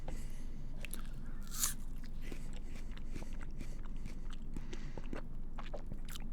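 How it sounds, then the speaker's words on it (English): Someone bites and chews an apple close up, with a single crisp bite followed by steady soft crunching and wet mastication that continues alone throughout. "You are now the one eating the apple and making the chewing noises."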